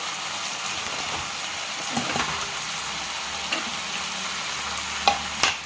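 Veg manchurian balls fry in a hot pan while being stirred, a continuous dense sizzle with a few louder scraping knocks near the end.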